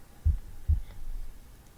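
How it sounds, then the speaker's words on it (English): Two deep, muffled heartbeat thumps spaced about half a second apart, low and soft, followed by a faint hum with no other sound. "A heartbeat flew into my ears as I turned to face the front of the classroom."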